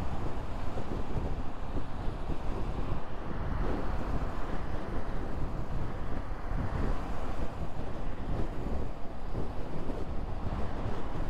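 Steady, heavy wind roar buffets the microphone while riding a Honda CL500 motorcycle on a windy day, a dense continuous rumble with no speech over it.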